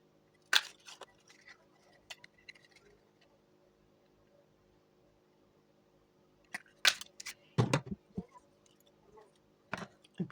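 Paper number tags for an advent calendar are punched with a hole perforator, giving a few sharp, close clicks and crunches separated by quiet handling noises, with no talking.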